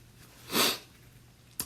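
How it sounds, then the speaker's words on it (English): One hard sneeze from a man with a sinus allergy bursts out loud and close in a quiet room, followed by a quick sharp sniff. "I sneezed really hard just now in that silent gap"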